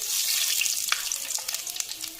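Whole spices, dried chillies and bay leaves tempering in hot oil in a pan, giving a close, bright crackling sizzle with scattered sharp pops throughout.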